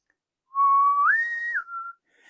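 A single clear, sustained whistle tone that steps up in pitch, holds, then drops back down, loud and close with nothing else around it.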